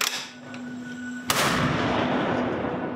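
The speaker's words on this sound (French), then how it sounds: "la ville résonne d'un coup de canon" A single noon cannon shot booms over Zagreb, Croatia, a sudden loud blast partway through followed by a long rolling echo across the city over a steady background hum.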